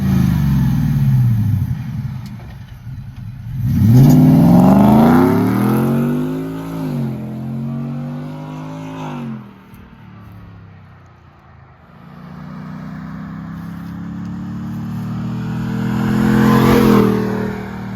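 A 2022 Ford F150 fitted with LTH headers and exhaust revs hard outside, the engine note climbing and falling through a few loud, throaty sweeps with a brief lull between blips.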